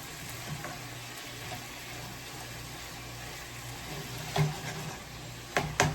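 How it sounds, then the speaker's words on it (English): Ackee frying and being stirred in a pot gives a soft, steady sizzle with a few sharper scrapes and clinks of the spoon toward the end, with no one talking. "Now we're going to stir him up and then we're throwing the ackee now"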